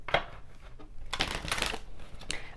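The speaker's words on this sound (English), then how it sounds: "But let's do some shuffling." Oracle and tarot cards being shuffled by hand, giving a few quick riffling bursts with short pauses between them, close and fairly quiet, with no talking.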